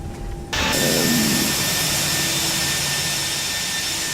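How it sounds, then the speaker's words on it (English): Jet engines of an Airbus A319 in a flight simulator game whine steadily while taxiing, a constant loud roar with a high tonal hum that starts abruptly and holds. "So we are taxiing down here now and take off with a slightly tailwind at 6 knots."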